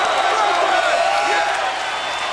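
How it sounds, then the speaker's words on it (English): A capacity crowd at a college basketball game roars and cheers steadily after a high-flying shot, a dense, sustained wall of voices with a few whoops, loud and unbroken throughout. "Isaiah Hunter skying on that shot and brings this capacity crowd to their feet."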